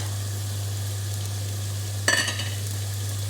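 Sago fritters frying in oil, a steady hiss of sizzling under a constant low hum, with one brief louder crackle and scrape near the end.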